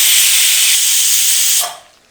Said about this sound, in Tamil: எண்ணெய் சூடானதும் சின்ன வெங்காயம் ஒரு 1/4 கிலோ எடுத்து அதை உரித்து வச்சுருக்கிறேன், அதை அதில் அப்படியே ஆட் பண்ணிக்கிறேன்.